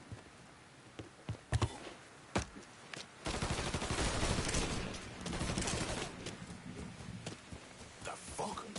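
Gunfire in Mafia 3: a few scattered sharp shots, then a long dense stretch of automatic fire and sustained shooting, loud and close, with occasional shouted voices mixed in.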